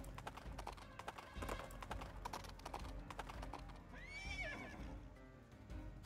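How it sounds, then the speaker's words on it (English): A horse's hooves clip-clop over a busy soundscape in the game Princess Peach Showtime, then a loud, rising whinny rings out near the middle before the hoofbeats carry on. "my God, the horse is back."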